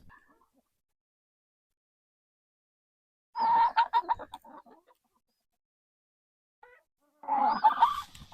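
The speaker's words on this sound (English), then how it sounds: "Look what I got, chickens. They're attacking me." Chickens cluck and squabble in two close, loud bursts while being fed pancakes, separated by a few seconds of quiet.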